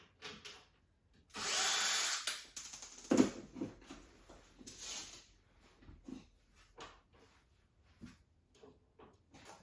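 A power drill runs in a short burst to back screws out of a flea market electronics find, followed by scattered clicks, taps and handling noises nearby.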